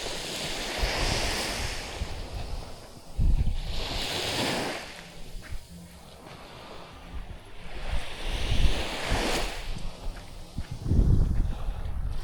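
Calm sea waves washing in slow surges near a small boat, soft rolling swells every few seconds, with steady wind buffeting the microphone.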